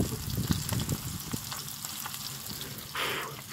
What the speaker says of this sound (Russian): Все-таки мы ее пожарим.